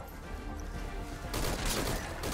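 Gunfire in the stealth video game Metal Gear Solid V: Ground Zeroes, a loud dense burst breaking out partway through over a steady rumbling game background, with no talking.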